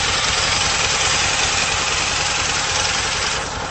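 A Harley-Davidson V-Rod Muscle with its 1250 engine idling close by, a loud steady rumbling throb that holds evenly and eases slightly in the final moments.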